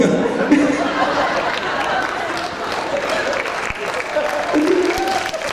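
Steady audience applause at a concert, a dense wash of clapping that runs the whole stretch, with crowd chatter and a bit of laughter mixed in and a voice coming through over it.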